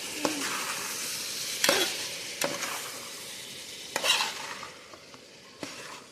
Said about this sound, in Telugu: అట్లనే కూడా ఇప్పుడు కలుపుకుందాం.